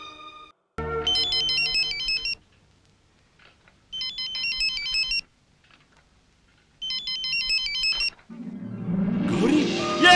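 Mobile phone ringtone playing in three separate bursts of a bright repeating melodic pattern, loud and close with pauses between, as a call is placed in a Bollywood film scene; a low rumbling noise swells at the end.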